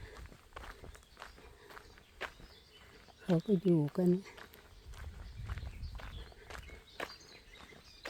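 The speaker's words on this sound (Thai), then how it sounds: "จะกลับแล้วเดินไปหารถกันทุกคน" Footsteps of people walking back to the car after viewing flower gardens at a museum, soft and steady under Thai chatter, with a brief burst of louder sound partway through.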